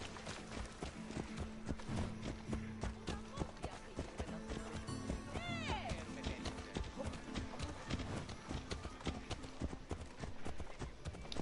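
Rapid, rhythmic clip-clop of galloping horse hooves in a video game continues throughout, with a short whinny partway through.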